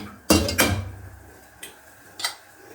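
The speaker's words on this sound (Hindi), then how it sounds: "तो फिर मैं इसमें पहले फूल मखाने डालूंगी" Puffed fox nuts (makhana) tumble into a hot pan, a couple of close rattling clatters followed by two fainter pattering bursts, no talking.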